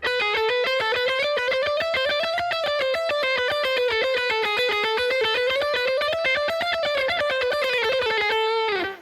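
A neoclassical electric guitar lick in A harmonic minor runs as rapid, evenly picked sixteenth notes, a bright, sustained distorted tone that climbs and falls in waves, played solo and close.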